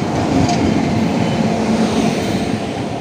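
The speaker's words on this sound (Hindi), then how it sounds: "देखिए ये आ गई हमारी ट्रेन जम्मू मेल।" The Jammu Mail passenger train pulls into platform 2 at Narela station, a loud, continuous rumble of rolling wheels and carriages with a steady rail roar throughout.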